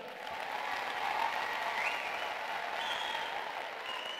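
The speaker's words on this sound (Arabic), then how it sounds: "صفقوا عليهم" Sustained audience applause at a women's political gathering in Marrakech, a dense, even clapping from a large crowd holding steady for several seconds with no voices over it.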